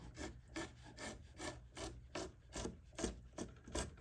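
Rhythmic scraping strokes of a chisel carving the wooden top braces of an acoustic guitar, about eight even rasping passes in four seconds, close and quiet with no voices.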